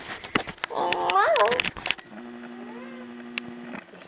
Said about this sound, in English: That's when she starts doing those meows.